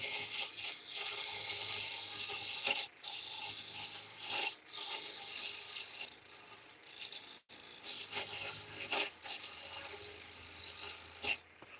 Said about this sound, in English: these carbide tools, man, they remove material fast